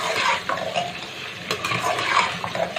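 Chicken and browned onions fry in a pot with a moderate sizzle, under loud, close stirring, scraping and clinking of a metal spoon against the pot.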